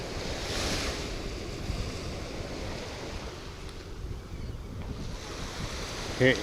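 Steady rush of soft waves washing onto sand on the Florida Gulf Coast, mixed with wind buffeting the microphone, continuous and fairly loud throughout.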